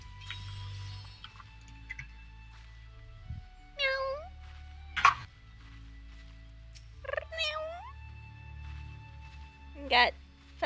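A pet cat called Purple Kitty meows several times in short, rising calls close by, with quiet talk and game audio faintly underneath.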